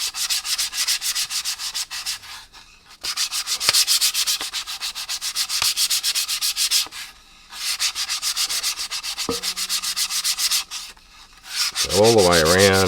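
Sanding the rounded lip of an MDF board, a close, loud abrasive rasp in long steady strokes with brief pauses between passes.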